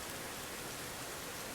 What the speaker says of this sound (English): I think the rain was already here from Suva.